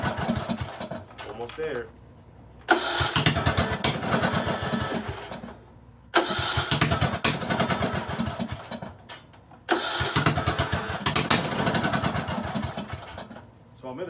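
A Briggs and Stratton small engine with a fuel mixture fault starts repeatedly, roaring loud and close in three rough running bursts that cut out in between, with someone speaking briefly.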